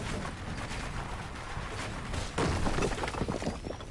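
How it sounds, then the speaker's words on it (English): A sniper shot shattering a build panel in the Fortnite video game, a sudden crunching break midway through busy game noise, followed by rattling debris, fairly close and loud. "You heard the snipe. The panel's gone."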